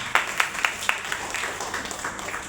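An indoor audience at a health awareness program gives a short round of clapping, a few sharp claps up front, then scattered applause fading quietly.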